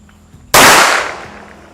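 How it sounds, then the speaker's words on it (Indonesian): A single loud, close shot from a Fox Hunter 9 mm rubber-bullet self-defense pistol fired at a five-metre range, a sharp crack followed by a decaying echo. "tembakan dengan jarak 5 meter"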